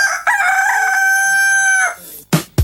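A man, a French rooster-crowing champion, imitates a rooster crowing at sunrise with his voice: one long, loud, strained cock-a-doodle-doo held for nearly two seconds, close and clear, followed by a short breathy sound.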